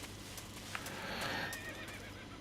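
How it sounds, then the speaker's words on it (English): Horse whinnying in the Metal Gear Solid 3 video game, a single drawn-out neigh with faint hoof clops, heard at moderate distance against a steady ambient game background with no talking. "A horse? A horse?"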